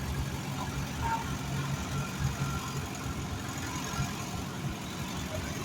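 A 1950 Minneapolis Moline ZAE tractor rolling along in a pioneer farm show parade, a low steady engine chug at moderate distance with outdoor crowd murmur and faint voices around it.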